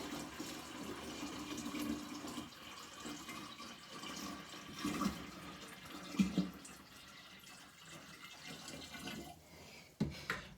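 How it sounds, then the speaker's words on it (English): Tap water running steadily into a Pinter home-brewing vessel for a public house IPA, a continuous low gushing fill with a few louder splashes and knocks near the end, no talk. "Now, we are going to fill up with water to the middle of the black line at the back of the vessel."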